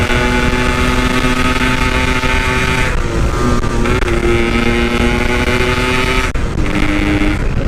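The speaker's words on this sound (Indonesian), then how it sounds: "Asli knalpotnya jadi kenceng banget, tambah kenceng banget pakai PWL." A motorcycle fitted with a PWL carburetor and a loud aftermarket exhaust, revving hard in third gear on a night ride, a steady close droning engine note that dips briefly and climbs again.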